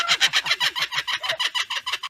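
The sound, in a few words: kookaburra laughing call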